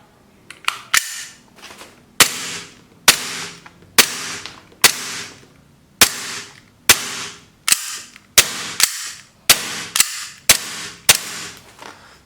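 A gas-powered BB pistol fires about fifteen sharp, loud cracks. Each shot has a short metallic tail, and the shots come at irregular intervals of roughly half a second to a second, close to the listener. No one speaks.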